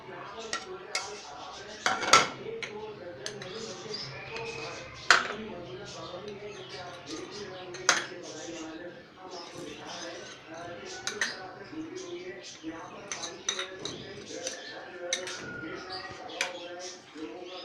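Utensils clink and scrape against a bowl while gram flour batter for pakoras is mixed with ajwain and other added ingredients, a steady run of small metallic taps with a few sharper knocks, and a person talks over it.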